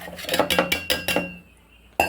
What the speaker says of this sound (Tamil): இதை வந்து மிக்சி ஜாரில் இந்த பார்லி அரிசியை போடணும்